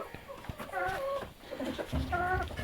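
Gramasree hens cluck close by in a backyard flock, several short nasal calls rising in bursts with brief pauses between them.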